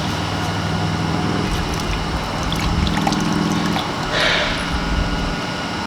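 A garden hose with its sprayer nozzle removed pours water into a pool, making a steady, loud rushing hiss that continues without pause for several seconds.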